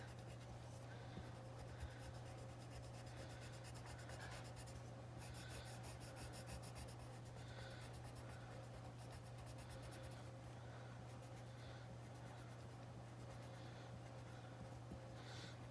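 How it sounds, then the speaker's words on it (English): A yellow colored pencil scratches and rubs steadily across card stock during close-up papercraft coloring, a faint, continuous dry scraping over a low background hum. "now we're going to use the Daffodil Delight pencil. And you're going to color in the rest."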